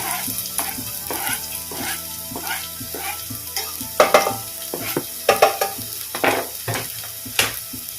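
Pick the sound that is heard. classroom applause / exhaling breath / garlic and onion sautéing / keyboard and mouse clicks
garlic and onion sautéing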